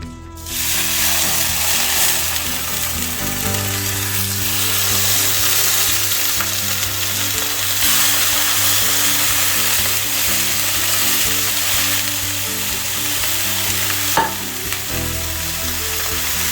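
Already-cooked pork sears in smoking-hot oil in a pan, giving a loud, steady, close sizzle that spits and crackles continuously, with a low hum underneath and a brief clink near the end.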